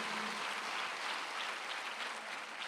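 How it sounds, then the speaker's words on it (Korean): A church congregation applauding during a Sunday worship service, a steady, even wash of many hands clapping together, fairly quiet and distant, with no voices over it. "박수하자."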